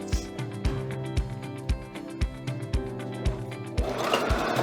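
Sewing machine stitching a multipurpose fabric bag, running in a steady mechanical whir with regular needle thumps about twice a second, close and clear, ending with a rustle of fabric.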